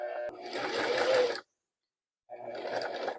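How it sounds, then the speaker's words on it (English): A sewing machine stitches in two bursts with its needle striking the presser foot, a close, busy mechanical whir that stops for under a second and then starts again. "my needle's like hitting my presser foot"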